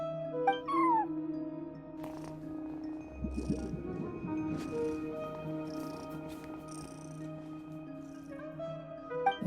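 A video game cat's short meow rises over a steady background hum, followed by a soft purring rumble and a few faint chirps, with no talking.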